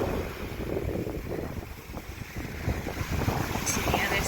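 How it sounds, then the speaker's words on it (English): Ocean waves roll in at a beach cove on the Trans Catalina Trail, a continuous broad wash with steady wind noise and gentle swells throughout. "just sitting here, watching the waves come in"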